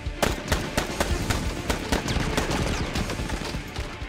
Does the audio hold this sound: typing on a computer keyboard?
no